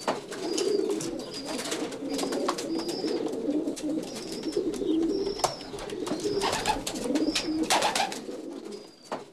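Racing pigeons coo steadily in a loft, soft rolling calls overlapping in a continuous murmur, with occasional wing flutters and shuffling sounds nearby.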